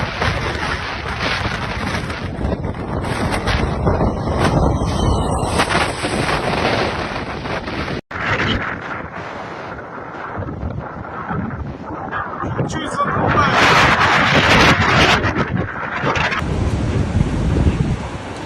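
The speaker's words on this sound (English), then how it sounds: "A strong wind rose suddenly." Strong hurricane wind gusts roaring and buffeting a microphone during a destructive storm in Batumi, Georgia, loud and continuous for the whole stretch, with surging intensity and bursts of rattling debris.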